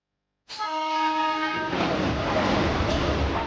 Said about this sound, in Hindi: ये ट्रेन इसके बाद कहाँ जाती है?